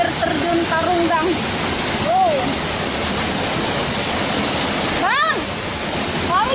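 Tarunggang waterfall pours with a loud, continuous roar close by, and voices speak briefly over the rushing water.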